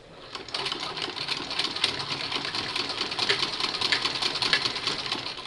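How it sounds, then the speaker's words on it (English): Rapid mechanical clattering of a hand-cranked Singer treadle sewing machine head, a steady chattering rhythm that starts abruptly and runs on without talk. "my hand crank makes a little noise"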